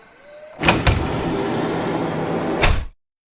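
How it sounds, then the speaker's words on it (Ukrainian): The heavy door of Noah's ark shuts with a loud wooden thud, followed by a sustained rumbling scrape and a second knock before the sound cuts off abruptly. "І сам Бог зачинив за ними двері."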